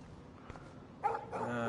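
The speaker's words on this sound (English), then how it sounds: "No barking." A dog in the video game Life is Strange gives a short yip and a bark near the end, under faint background sound, after a quiet stretch.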